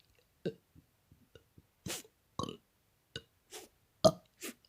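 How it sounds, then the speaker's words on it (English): Fake burps made by a person, about ten short separate belches of varying pitch and length, close and distinct with silent gaps between them. "Okay, for the burps first."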